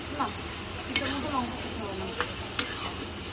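Potatoes and bitter gourd fry in oil with turmeric, giving a steady close sizzle broken by a few sharp stirring scrapes, with faint voices in the background.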